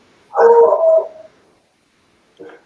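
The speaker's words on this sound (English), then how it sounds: "That was not my dog." A dog gives one loud, close bark with a drawn-out whine, followed after a pause by a shorter, fainter yelp.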